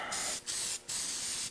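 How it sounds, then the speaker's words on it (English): Gasket sealant sprayed from an aerosol can onto an engine block during engine assembly, three close hissing bursts separated by short pauses. "you just spray that stuff on there, put a nice gentle coat on"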